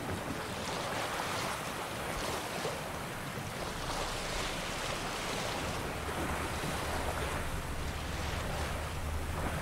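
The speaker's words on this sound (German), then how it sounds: "Mit Wind zu segeln ist deutlich angenehmer." Sailing ship crossing the sea in a tailwind in the video game The Witcher 3, with a steady wash of waves and wind rushing against the hull, continuous and fairly loud with no talking.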